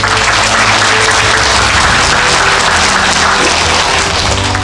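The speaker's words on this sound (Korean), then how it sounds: "우리 감사하고 박수 한번 부탁드립니다" Steady, loud applause fills a district council event at a community welfare center, a continuous wash of many hands clapping with a low hum underneath and no voices over it.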